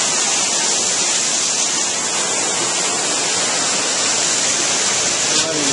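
Steady, loud rushing water pouring and churning continuously under a mill wheel at Ballenberg, like a strong flow through a channel, with no pauses.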